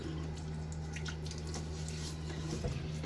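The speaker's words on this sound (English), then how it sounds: "All right, get my face wet." Water splashing and dripping softly as a face is wetted by hand before a wet shave with a vintage safety razor, heard faintly over a steady background hum.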